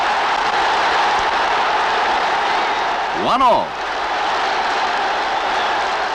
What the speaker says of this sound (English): The crowd are ecstatic.